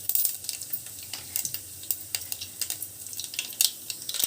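Mustard seeds and cumin in hot oil for an Andhra-style fish curry, a quiet crackling sizzle with frequent small pops and spits, close and fairly faint.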